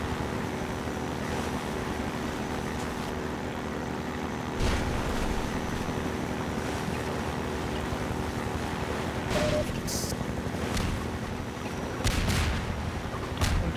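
Half-Life 2 gameplay in which an attacking helicopter drops mines, heard as a steady engine drone with several sharp, loud blasts and impacts scattered throughout.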